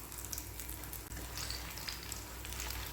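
Banana cutlets frying in hot oil in a pan, with a steady dense sizzle and crackle throughout, close and even, with no voices.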